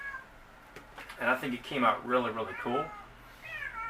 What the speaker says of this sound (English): I don't know if you can hear that meowing back there.